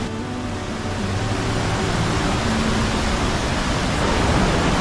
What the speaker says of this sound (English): And yes, you can just see the massive waterfall.